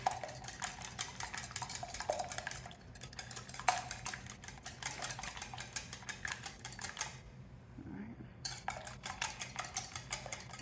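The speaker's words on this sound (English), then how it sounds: "So I just use my other whisk here, make sure I get these nice and smooth." Four eggs being beaten smooth with a whisk in a bowl for a Southern banana pudding. Rapid, rhythmic metallic clicking and scraping runs close up, broken by one brief pause before the whisking resumes.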